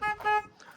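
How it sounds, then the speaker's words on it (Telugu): Two short, sharp toots from a car horn sound close by in quick succession, followed by a faint tail of room noise. "హారన్."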